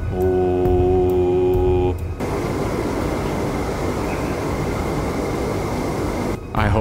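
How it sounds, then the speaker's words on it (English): A low, steady droning hum like a plane hovering overhead fills a quiet hunting scene in the game Way of the Hunter, set in Transylvania. It follows a few seconds of soft tonal sound and stays broad and constant. "it almost sounds like a plane is hovering overhead"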